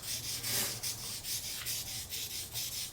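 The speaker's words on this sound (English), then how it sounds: "I'm using a rid stick block, and just kind of sanding over the spot" Wet sanding a car headlight lens by hand with a rigid stick sanding block, a steady rhythmic scrubbing rasp repeating in quick strokes, close and fairly quiet, with no talking.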